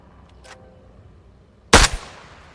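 A single sniper rifle shot in the video game Arma Reforger cracks loud and sharp after a quiet stretch, followed by a short decaying echo tail, with faint small sounds before it.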